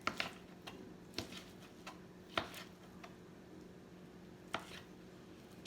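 A knife chops cooked lemon chicken made in an Instant Pot on a cutting board, with a few sharp, irregular taps close by and quiet, with no talking.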